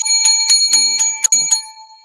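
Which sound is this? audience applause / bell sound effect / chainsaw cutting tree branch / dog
bell sound effect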